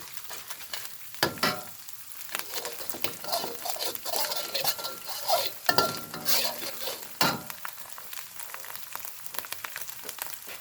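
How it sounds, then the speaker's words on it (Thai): Thai red curry paste stir-fried in a pan for a spicy chicken and pea-eggplant stir-fry, giving a steady sizzle with repeated scraping stirs and occasional utensil clatter, close and fairly loud throughout. "เราก็จะผัดพริกแกงให้เขาเหลืองหอมสักหน่อยนะคะ"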